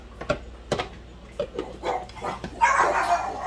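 Pet dogs in a home kitchen let out several short, sharp barks close by, spaced irregularly, followed by a louder burst of background noise.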